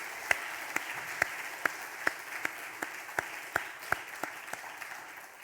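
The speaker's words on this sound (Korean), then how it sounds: "그러면서 박수 한번 하시겠습니다." A church congregation at a Sunday service claps a short round of applause, sharp, evenly spaced claps over a soft background murmur, fairly faint and a little distant in the room.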